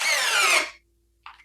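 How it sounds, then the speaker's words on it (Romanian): A Parkside cordless drill in second gear drives a screw into wood with a loud, steady whine for about half a second, then cuts out; a short, sharp burst follows after a brief pause. "vreau să văd dacă în viteza a doua această sculă poate să bage șurubul până în capăt, pornind de sus"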